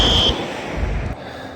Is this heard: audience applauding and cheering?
no